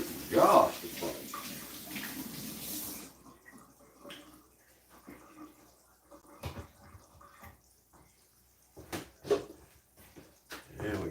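Tap water runs briefly as butter is rinsed off in a kitchen, a close, splashy gush that stops after a few seconds, followed by scattered clinks and faint drips.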